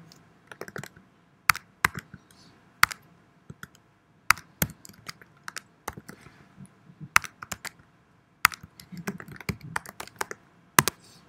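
Shell commands such as mkdir are typed on a computer keyboard, a continuous run of crisp key clicks in irregular bursts with short pauses, close and alone.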